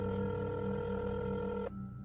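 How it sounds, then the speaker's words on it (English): A cell phone makes a call from the passenger seat of a moving car, giving a steady electronic dial tone that holds for under two seconds and then cuts off abruptly, with no voices. "the killer grabbed their cell phone from the passenger seat and made a quick call"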